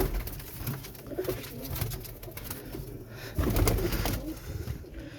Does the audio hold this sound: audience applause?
no